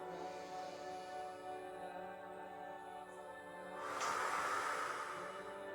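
A long, breathy exhale during a Pilates exercise, a soft airy hiss that swells louder near the end over a faint steady background tone.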